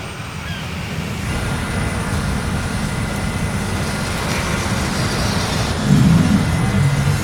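A small plane's engine drones through the cabin during flight toward Dry Tortugas National Park, a loud, unbroken roar that swells slightly near the end.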